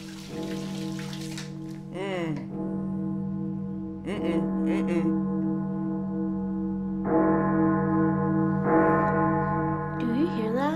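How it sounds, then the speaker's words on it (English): Bells ringing in a short horror film: sustained, resonant tolls that swell and decay in several waves, with soft rattling and rain-like patter beneath them. "That is the bells."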